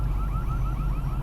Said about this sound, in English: With the alarm going on.